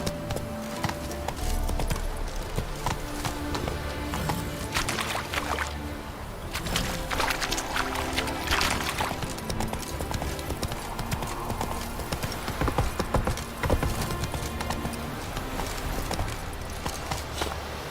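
The horse Roach gallops in The Witcher 3 video game, with steady rapid hoofbeats close up that continue for the whole stretch and occasional faint bits of other game sound underneath.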